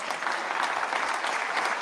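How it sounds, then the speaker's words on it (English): Steady applause from a sizeable crowd during a 2021 governor's State of the State address, dense and even, continuing at a constant level for the whole moment. "you can clap for that"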